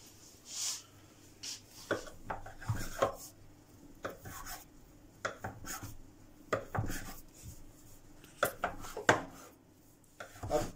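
Knife chopping through rested naan dough on a board, cutting it into eight portions: a series of close, crisp taps and scrapes in irregular rhythm, with no talking.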